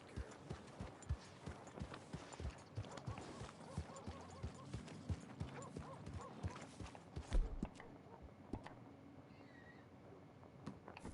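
Horse hooves clip-clop at a steady walking rhythm in Red Dead Redemption 2, a string of distinct, fairly faint thuds over quiet ambient game sound, with one heavier thump partway through.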